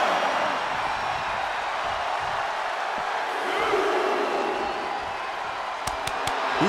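A virtual arena crowd in the WWE 2K24 wrestling game roars steadily as a continuous wash of cheering, with a few sharp impact hits near the end.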